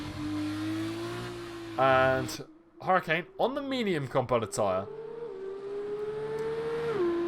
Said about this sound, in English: these F2 cars do sound fairly unique